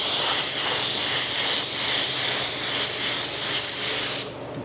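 Clear coat sprays from an aerosol can in one loud, close, continuous hiss lasting about four seconds before it cuts off abruptly.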